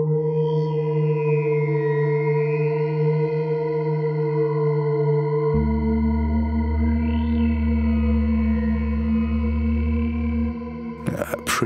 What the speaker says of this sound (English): The wavetable is being modulated by the RINGMOD again.